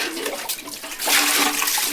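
Water poured out for washing dishes during a friends' Diwali holiday party, a steady splashing rush that grows louder and fuller halfway through, close and continuous with no talk.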